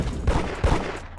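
Two quick bursts of video game gunfire pop close together, loud and alone without speech.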